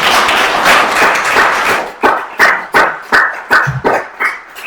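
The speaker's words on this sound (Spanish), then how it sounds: "os pido de corazón que os deis un aplauso a cada uno de vosotros" Applause from an audience at a talk on psychological first aid, a dense wash of clapping that thins into separate sharp claps and scattered taps as it dies away.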